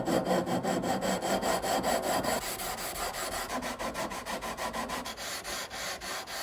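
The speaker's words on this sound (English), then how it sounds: "when I sand the fretboard flat" The ebony fretboard of a 1979 Gibson guitar is sanded flat with steady back-and-forth rasping strokes, close and continuous, the rhythm quickening toward the end with no talk.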